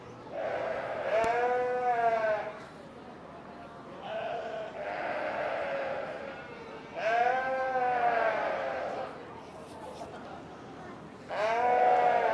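A lamb at a sheep show bleats in long wavering cries, four calls spaced a few seconds apart, close and fairly loud, with quieter voices talking between them.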